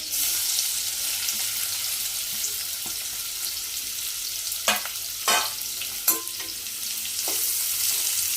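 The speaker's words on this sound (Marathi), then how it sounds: "कांदा पाच सहा मिनटं व्यवस्थित परतून घ्यायचा आहे" Onion frying in a pan for a traditional Maharashtrian taklyachi bhaji, with a steady close sizzle and a few sharper scraping stirs near the middle and end.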